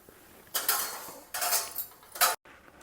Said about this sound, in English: Now we can drain out these vadis from the oil